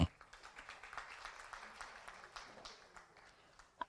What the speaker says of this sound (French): Madame Mampenda Ba, sous vos applaudissements, s'il vous plaît.